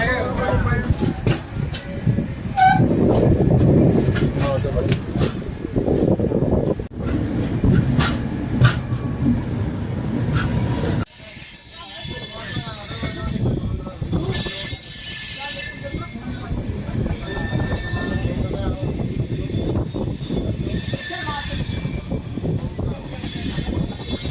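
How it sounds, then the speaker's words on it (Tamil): The Puducherry–New Delhi Superfast Express departs Puducherry railway station, rumbling and rolling with wheels squealing and clattering, loud and near; people can be heard talking over the noise. "ட்ரெயின் பார்த்தீங்கன்னா டிபார்ட் ஆகிடுச்சு"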